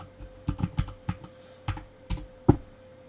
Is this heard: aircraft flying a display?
no